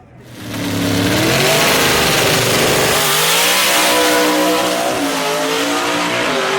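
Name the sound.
gasser race cars in a drag race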